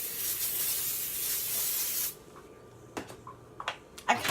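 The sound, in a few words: baking spray sprayed onto pan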